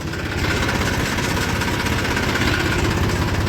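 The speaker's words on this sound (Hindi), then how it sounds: "अब दोस्तों मैंने गांव में से ट्रैक्टर वापस मोड़ लिया है जी।" A tractor engine runs steadily while driving out around the edge of a village, with a continuous loud, rumbling, knocking drone that holds an even level the whole time and no voices over it.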